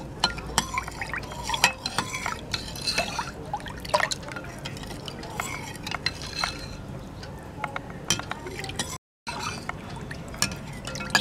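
A spoon stirring kokum sol kadhi mixed with black salt and sugar, giving continuous liquid swishing and small clinks against the bowl, close and fairly loud, with a brief dropout near the end.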